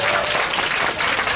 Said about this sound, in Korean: 청소년들한테 우리 박수 한번 쳐줍시다.